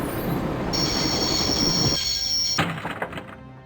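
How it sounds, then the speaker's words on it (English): A train in the Broken Sword game screeches as it brakes to a stop, a loud sustained wheel squeal that cuts out sharply, followed by a few heavy clunks and thuds as it settles. "I always wanted to stop a train."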